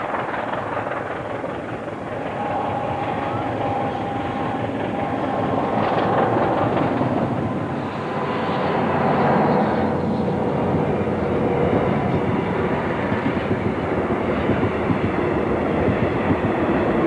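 A steam train running flat out through the Karoo, a loud, continuous roar of exhaust and rolling wheels with a steady chuffing rumble, no voices.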